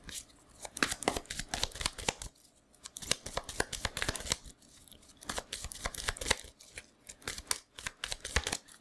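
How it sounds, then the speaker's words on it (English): Magic: The Gathering cards are shuffled at a kitchen table. Quick papery riffles and snaps come in uneven bursts, close and fairly quiet, with a few short pauses between rounds. "but I have to shuffle these first."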